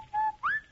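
Two short whistled notes in a Rinso soap radio advertisement, a steady tone followed by a rising one, clear and close with nothing else around them.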